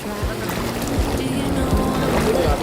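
Waves wash around swimmers in the open sea, a constant rushing surf with rhythmic splashes, while people shout and talk excitedly nearby.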